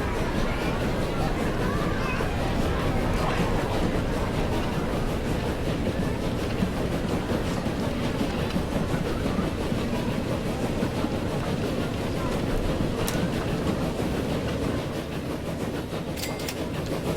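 Train rolling along rails in the video game Transport Fever, a continuous dense rumble and rattle held at an even level, with a voice talking over it.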